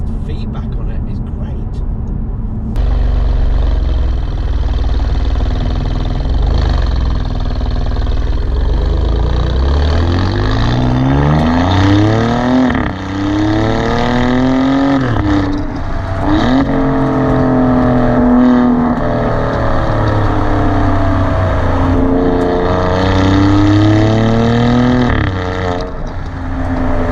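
An Alfa Romeo Giulia Quadrifoglio with a modified exhaust idles with a deep rumble, then revs repeatedly in rising and falling sweeps to around 2,500 rpm, loud and close, with someone talking throughout.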